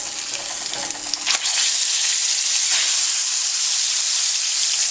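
Salmon cooks skin side down in a hot frying pan, giving a loud, steady, close sizzle and hiss that swells after a brief stir or shuffle early on.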